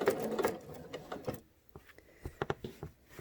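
A sewing machine stitches in the ditch along a quilt seam, its needle running in a quick mechanical patter that breaks off, then returns as a few sparse, separate clicks and thumps, close and fairly quiet.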